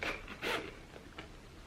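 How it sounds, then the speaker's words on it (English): Zipper on a vintage Chanel camera bag pulled in a few quick, soft rasps close to the microphone, quiet and brief. "and the zipper, it's very good, smooth."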